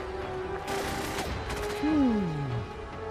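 Gunfire bursts from a weapon in the video game Fallout 4, played in Survival Mode, sounding as a few sharp cracks with mechanical clatter over steady game ambience and music.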